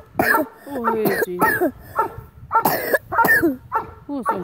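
A dog with a bad cold gives a series of harsh, honking coughs in quick bursts, close by, with short pauses between fits.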